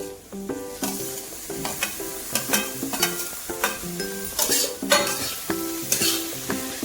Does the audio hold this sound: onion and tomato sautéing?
yes